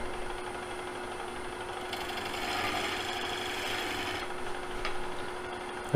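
Gouge cutting wood by hand, a steady faint scraping rasp that swells slightly in the middle, close and quiet, with no talking.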